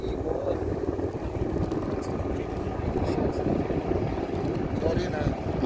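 A helicopter flies at the Saudi Hawks airshow during Saudi Arabia's 91st National Day celebrations, its steady rotor and engine roar filling the air loudly and continuously with crowd noise mixed in.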